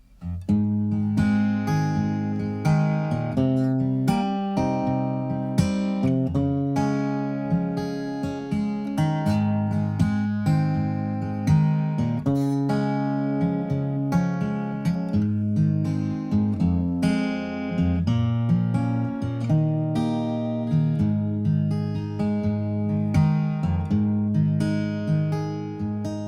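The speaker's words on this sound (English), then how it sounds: "Let's just do a simple guitar part" Strummed guitar chords play a simple, steady accompaniment with a repeating pattern, sustained and fairly loud, with no voices.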